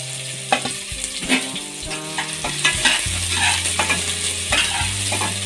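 Sliced small onions and long-cut green chillies sizzle and fry in a pan, with a steady crackling bed broken by repeated scraping stirs and clinks near the mic, without talk.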